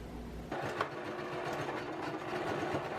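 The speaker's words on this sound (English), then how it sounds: "Then sewing down those folds." A sewing machine stitching down folded fabric edges on an old garment being remade, a steady mechanical whirring run that starts after a brief pause and continues evenly, close up.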